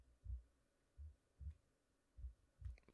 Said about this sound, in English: Why am I hearing a heartbeat?